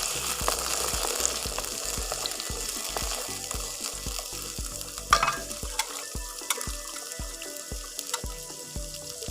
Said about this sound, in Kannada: ಈರುಳ್ಳಿ ಸ್ವಲ್ಪ ಫ್ರೈ ಆಗಬೇಕು. ಬಟಾಣಿ ಹಾಕ್ತಾಯಿದ್ದೀನಿ.